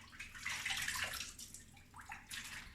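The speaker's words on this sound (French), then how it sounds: "Fait que je vais tout rincer ça." Running water rinses during a mealybug treatment, a steady splashing flow with gurgling swells, moderately close and fairly quiet, with no talking.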